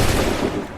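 A dense musket volley in Assassin's Creed 3, many guns going off together as one loud, close, rolling crackle that fades briefly.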